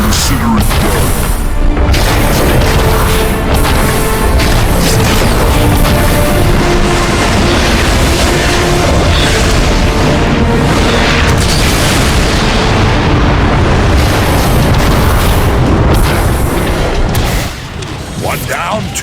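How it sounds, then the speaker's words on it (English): Heavy explosions in the video game Transformers: Fall of Cybertron as the giant Metroplex destroys a warp cannon, loud continuous booming and rumbling blasts that fill the scene, with game voices heard among them. "Metroplex, take out that warp cannon."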